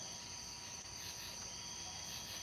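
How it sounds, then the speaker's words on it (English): A dense, steady chorus of high-pitched trilling from tree frogs fills the night in the countryside just after rain, faint and continuous with no breaks. "Now all you can hear is the tree frogs."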